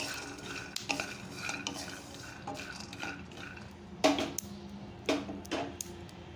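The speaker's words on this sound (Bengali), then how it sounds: "আমি বাদামগুলো ভেজে নিচ্ছি।" Peanuts dry-roasting in a kadai are stirred again and again, producing scraping, rattling strokes at an uneven pace, with a few sharper clinks of the spoon against the metal and no voices.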